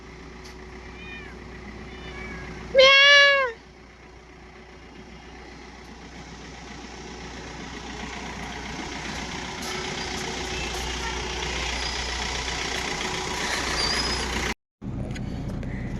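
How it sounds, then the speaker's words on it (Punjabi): A single cat meow rises briefly over a steady low engine idle, with faint background rumble continuing throughout. "ਬਿੱਲੀ ਦੇਖੋ ਕਿੱਥੇ ਵਰਦੀ"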